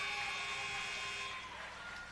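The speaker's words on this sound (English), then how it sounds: "Buzzer sounds" A sustained electronic buzzer ends a quarter at a women's college basketball game between UW-Superior and North Central, a steady tone holding over gym ambience for about a second and a half before fading into crowd noise.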